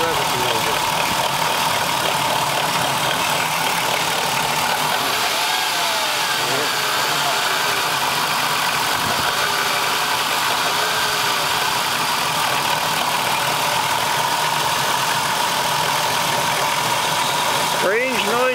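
A 3.3-litre Dodge Caravan engine runs steadily with a squeaking alternator, a continuous whine over the engine drone that rises briefly near the end as the engine is revved; a voice is faintly present.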